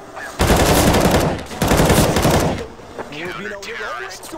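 Shotgun blasts from a Counter-Strike pro match, two heavy bursts of gunfire close together followed by quieter game sounds and a commentator talking.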